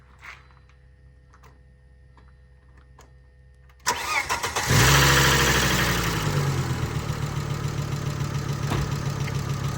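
A Volvo 850 T-5R with a new fuel pump cranks briefly and fires right up, settling into a loud, steady idle close by with a faint ticking valve lifter noise.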